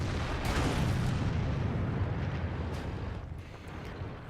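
A deep, rumbling artillery shell impact lands close to an IS-7 heavy tank in World of Tanks, a heavy low roar that fades slowly over several seconds.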